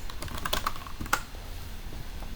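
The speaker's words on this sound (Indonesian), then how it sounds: "saya ketik node" Keys clatter on a computer keyboard while a command is entered in a Node.js terminal, a quick run of close, fairly soft clicks with one sharper keystroke near the end.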